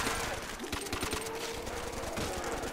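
Rapid automatic gunfire and bursts of shots fill a custom zombies video game match, dense and continuous, mixed with game effects and voices talking over it.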